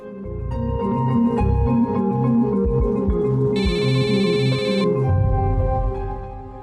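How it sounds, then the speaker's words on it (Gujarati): A phone ringtone plays a repeating melodic tune, loud and near, with a brief shrill electronic burst partway through. "કેસરનો ફોન."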